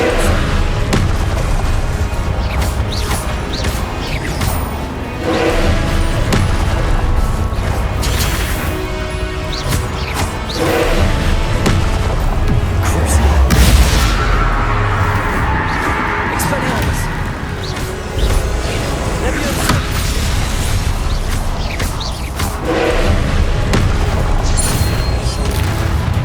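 Confringo blasting spells in Hogwarts Legacy set off repeated heavy booms and crashes in a dense, continuous battle mix, with voices shouting spell names over the explosions.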